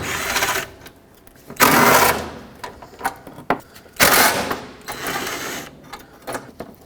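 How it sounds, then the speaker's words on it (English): A ratcheting socket wrench with a 10mm socket backs out mounting bolts on a 2007-2009 Saturn Aura hood latch, with a few close bursts of ratchet clicking separated by handling clatter. "10mm socket, remove all 3 of these mounting bolts."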